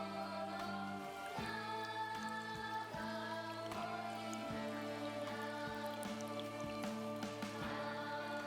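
Rain patters in the video game Silent Hill f beneath a sustained, droning tonal music bed, with the soft drops steady throughout and no voices.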